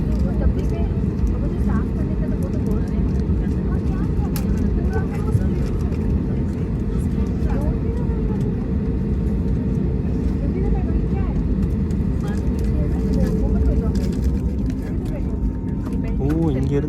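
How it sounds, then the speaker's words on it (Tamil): Airliner taking off from Indore Airport, its engines roaring as a steady, loud broadband rumble heard from inside the cabin, continuous throughout with faint voices underneath. "பார்த்தீங்கன்னா அதுக்கப்புறம் டேக் ஆஃப்."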